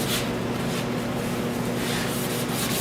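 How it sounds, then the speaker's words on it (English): Close, continuous rasping of 600 grit sandpaper wet sanding a car door jamb, a steady rough rubbing with slight rhythmic strokes and no talk. "just come in with 600 grit sandpaper. Just sand this out"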